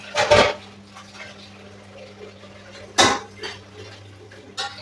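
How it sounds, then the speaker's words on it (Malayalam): A plate is set over a pot of Bangladeshi-style biryani as a lid, with a sharp metallic clank near the start and another about three seconds later. Lighter clatter and a low steady hum fill the gaps. "അതിനുശേഷം പ്ലേറ്റ് വെച്ച് അടക്കുകയാണ്"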